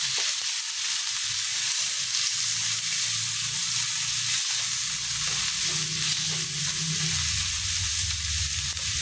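Onion, tomato and chopped vegetables for pakbet sauté in a hot pan, giving a steady, loud sizzle and crackle throughout with occasional stirring and no talking.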